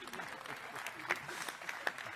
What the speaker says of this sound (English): an applause to Thomas Baupel